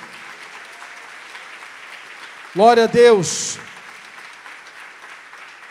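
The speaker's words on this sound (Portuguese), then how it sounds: "Fica em pé no teu lugar, aplaudindo o nome do Senhor" A congregation applauds steadily throughout a church worship service, with a single voice shouting a short exclamation over the clapping midway.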